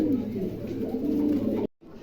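A pair of caged pigeons coos in low, rolling, continuous calls close by, cut off abruptly near the end before faint background noise resumes.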